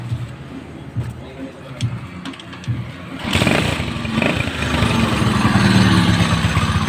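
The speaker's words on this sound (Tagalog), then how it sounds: "So kapag mayroon kayong maingay na motor Ganito yung tunog" A noisy Motorstar Star-X 125 motorcycle engine runs roughly, quieter at first, then suddenly louder and harsher, rumbling steadily to the end, with voices faintly present.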